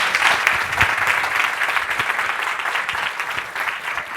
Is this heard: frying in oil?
no